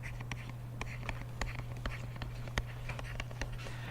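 Writing a physics equation by hand during a physics lesson: scattered short taps and scratchy strokes at an irregular pace over a steady low electrical hum, with no talking.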